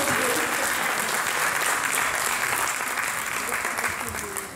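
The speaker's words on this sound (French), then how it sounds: "applaudir le camarade, s'il vous plaît." Audience applause for a participant at a Guadeloupe regional youth event, a dense, steady wash of many hands clapping throughout, with faint voices beneath.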